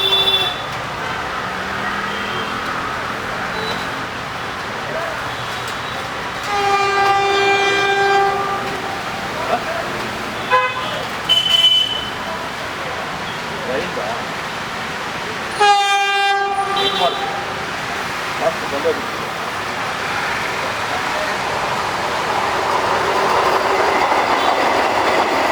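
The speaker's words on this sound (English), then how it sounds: "Vande Bharat Express." A Vande Bharat Express on the Bengaluru–Hubli line sounds its horn in two sustained blasts over rolling rail rumble, with a brief burst of clatter between and the passing train noise swelling toward the end.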